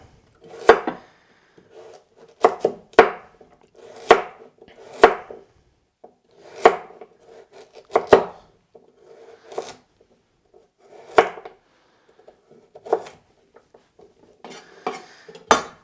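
A knife slicing food into pieces on a cutting board, about a dozen crisp, sharp taps landing at an uneven pace, close and clear against near silence with no voices.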